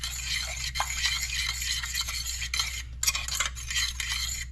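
A spoon stirs glaze for whole wheat hot cross buns in a pot on the fire, giving soft, steady scraping and liquid stirring sounds with faint clinks, close and continuous.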